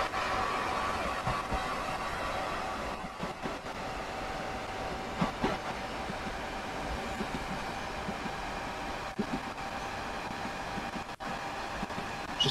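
Simulated train at full throttle in Train Sim 2020, a steady broadband rumble of engine and rails running continuously throughout with little variation, no talking over it.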